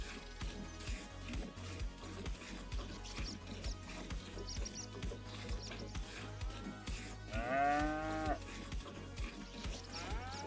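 A cow moos inside the Farming Simulator 25 video game, one clear drawn-out call near the middle, rising above a steady busy backdrop of farm ambience and rhythmic clatter, with no talking.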